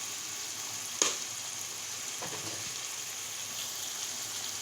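Chicken gizzards frying in masala give a steady, fairly quiet sizzle that holds throughout, with one sharp stir or clatter of a utensil near the start.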